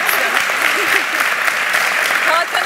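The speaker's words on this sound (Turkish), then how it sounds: "Motivasyonumuzu alkışlayalım." Group applause from a crowd of contestants on a reality competition show, steady dense clapping throughout with some voices mixed in.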